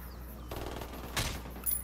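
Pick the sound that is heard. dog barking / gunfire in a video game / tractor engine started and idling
gunfire in a video game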